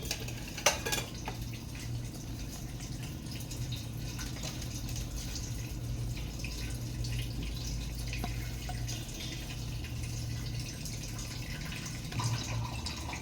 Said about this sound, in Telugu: ఇప్పుడు ఆనియన్స్ వేసుకుందాం.